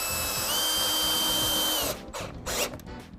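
A power drill whines steadily for about two seconds as a Spax screw drives into wood without pre-drilling, then stops, followed by a few short bursts and clatter.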